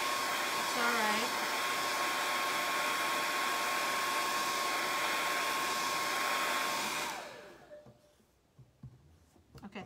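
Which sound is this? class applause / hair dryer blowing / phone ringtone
hair dryer blowing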